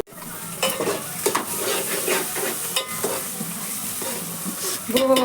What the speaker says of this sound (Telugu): ఈ పసుపు కలిసే కలిసేలాగా మనం కలుపుకోవాలి